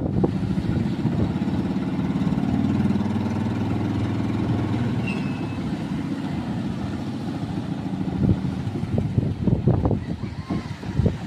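A boat engine runs steadily, a continuous low droning rumble with wind noise, close and fairly loud throughout, with some rough bursts near the end.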